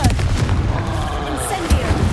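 Repeated blasting-spell explosions go off in Hogwarts Legacy, heavy booming thuds layered with magical whooshes and crackles, loud and close amid battle noise, with a voice calling out over them.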